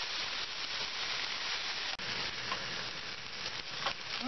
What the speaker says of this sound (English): Let the meat cook on medium heat for about 5 minutes and flip and cook the other side for about another 5 minutes.